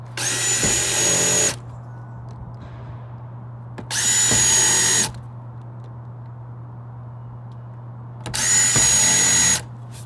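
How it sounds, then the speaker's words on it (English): A countersink drill bit bores pilot holes for screws into a wooden table in three loud, evenly spaced bursts of about a second each, with a low steady hum between them. "drill 4 holes here."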